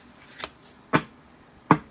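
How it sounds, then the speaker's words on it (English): A Louise Hay affirmation card deck is shuffled by hand, giving three sharp riffling snaps spaced about half a second apart against a quiet background, with no talking. "I'm just going to shuffle them and pull a card for us for the day"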